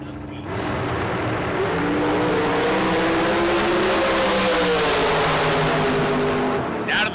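Drag race cars at a spring bracket race roar down the strip in one long, loud, sustained engine drone for several seconds before it cuts off abruptly, with no talking over it.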